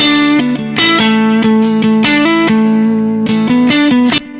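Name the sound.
electric guitar phrase played with distortion effect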